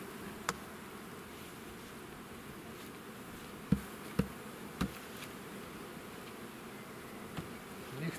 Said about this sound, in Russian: Так, ну пчелы продолжают гудеть, но мне кажется, чуть меньше.